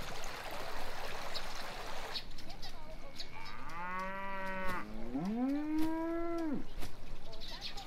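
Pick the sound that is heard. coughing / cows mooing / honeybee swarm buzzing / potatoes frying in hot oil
cows mooing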